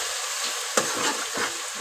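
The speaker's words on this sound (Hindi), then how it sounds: "इसको थोड़ा सा भून लेंगे पेस्ट को" Garlic-ginger paste roasting in a pan makes an even hiss of sizzling oil, with a couple of soft scrapes from stirring and one sharper clack partway through.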